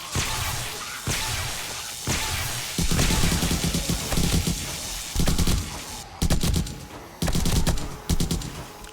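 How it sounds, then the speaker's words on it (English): Gunfire from a gun in 7 Days to Die with the Undead Legacy mod, loud sharp bursts of shots in rapid clusters separated by brief pauses, close and dominant. "I love this gun. Just sounds cool."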